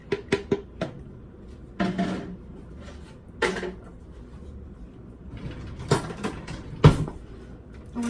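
Ingredients for chili are dumped into a cooking pot, with several clattering knocks and scrapes of utensil on metal spread out over a few seconds, and the loudest bangs near the end.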